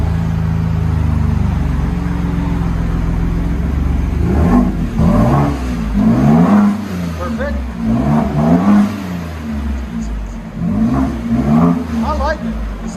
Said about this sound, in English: 22 Ford F-150 with a Carven dual system